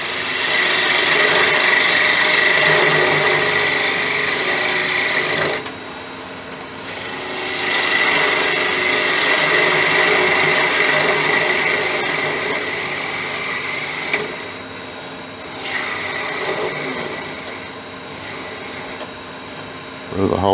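A wood lathe spins a large driftwood snowman as a gouge scrapes and rasps against it, a loud continuous shaving hiss that breaks off briefly twice before resuming.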